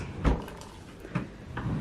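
A dormitory dresser drawer slides open and shut, giving a few short wooden knocks and scrapes spread across a brief moment, close and fairly clear.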